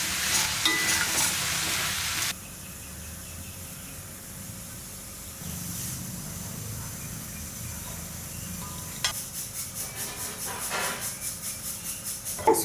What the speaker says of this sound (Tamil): அதுக்காக இந்த தண்ணி கொஞ்சமாக சேர்த்து நல்லா வதக்கிக்கலாம்.